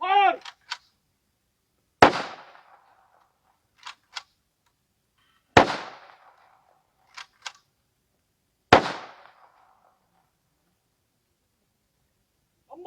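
Ceremonial rifle volleys fired at a soldier's funeral in Bohar, three sharp, loud cracks a few seconds apart that echo out into the open. Shouted commands come between the shots.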